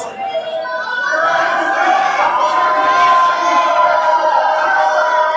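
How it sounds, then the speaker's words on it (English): A wrestling crowd at an SCW Arctic Takedown event cheers loudly and continuously. Shouts and whoops blend into a swelling roar that holds steady throughout. "Crowd is really feeling the new guy, Jesse, right now."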